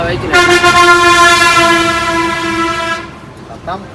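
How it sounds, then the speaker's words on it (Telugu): Loud multi-tone horns on a Maruti Omni van, wired through a horn relay, blare in one long sustained chord for about three seconds, then stop, followed by a brief shorter toot. "మళ్ళీ ఈ హారన్లు చూడు ఎట్లా కొడుతురు"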